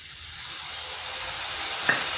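A splash of water added to spice masala frying in a pan brings a loud, even hiss of sizzling that swells slightly, with a small clink near the end and no voices.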